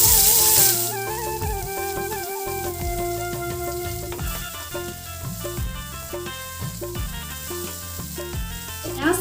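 Dried chillies, chopped onion, garlic and ginger frying in oil in a pan, a soft sizzle under a steady stream of background music with rhythmic beats throughout.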